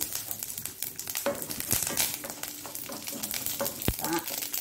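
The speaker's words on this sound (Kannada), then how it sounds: "ಪಟ ಅಂತ ಹೇಗೆ ಸಾಸಿವೆ ಹೊಡಿತದೆ ನೋಡಿ" Hot oil sizzles continuously while mustard seeds, a chilli and curry leaves crackle and pop in quick, irregular bursts, close and fairly loud, with a couple of sharper snaps.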